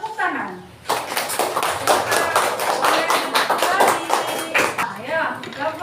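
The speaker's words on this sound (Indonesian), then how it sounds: "Nah, kalau benar kita kasih tepuk tangan." A classroom of students bursts into a short round of clapping, fast uneven hand claps close by, with a teacher's voice briefly before and children's voices as it fades.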